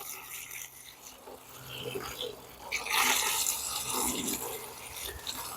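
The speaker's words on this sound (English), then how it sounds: "I'm literally going to just fill that up with water" Water pours steadily into a bucket packed with squashed nettles for making fertilizer, a fairly faint, continuous splashing and trickle that swells louder midway.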